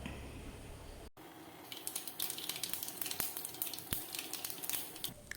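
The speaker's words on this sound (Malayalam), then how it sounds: "ഒരു പാൻ ചൂടാവുമ്പോൾ അതിലേക്ക് കുറച്ച് വെളിച്ചെണ്ണ ഒഴിച്ച് അര ടീസ്പൂൺ കടുക് ഇട്ട് കൊടുക്കുക" Mustard seeds sizzle and crackle in hot coconut oil in a pan, a steady close hiss peppered with irregular sharp pops that grow busier after a short pause.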